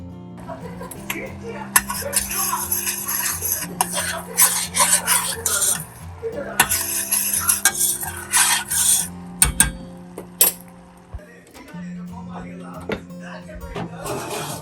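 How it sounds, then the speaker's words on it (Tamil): Strawberries and a roughly equal amount of sugar are stirred together in a bowl, giving repeated scraping and rubbing strokes with occasional clinks against the bowl, running throughout beneath a steady background of voices or music. "ஸ்ட்ராபெரிஸை ஒரு கிண்ணத்தில் போட்டுட்டு சுகர் போட்டுட்டு"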